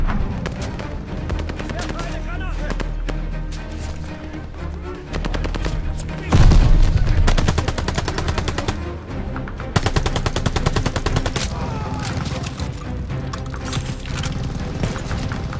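Sustained machine gun fire in the Call of Duty: Vanguard campaign, rapid loud bursts running almost the whole time with heavier booms and battlefield noise layered in, and voices shouting over the gunfire.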